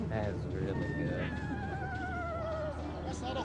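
A person imitates an eastern screech owl's descending whinny call, a wavering whistle that slides downward for about two seconds over faint outdoor background noise.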